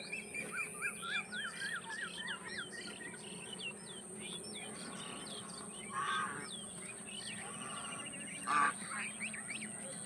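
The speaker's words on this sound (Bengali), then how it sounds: "কত বড় বড় রাজহাঁস আর রাজহাঁসের বাচ্চাও আছে" Geese honk and young birds peep in a busy chorus, with chirping insects and birds and occasional louder calls nearby.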